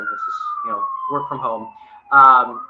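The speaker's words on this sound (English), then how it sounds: "apologies for the siren" A police siren wails steadily outside in the background, slowly sliding downward in pitch as it passes, while someone speaks over it close by.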